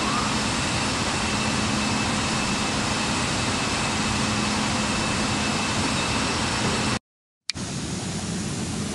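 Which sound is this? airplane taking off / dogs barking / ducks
airplane taking off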